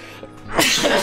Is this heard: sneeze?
yes